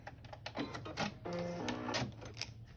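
A sewing machine stitches around a fabric utensil bag, giving a short burst of rapid, steady mechanical whirring between quieter clicks and handling noises, heard close and fairly soft.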